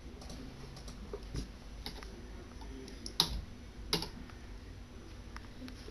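Fingers tap steadily on a computer keyboard, with soft keystrokes close to the microphone, a few louder clacks like the space or enter key, and no one talking.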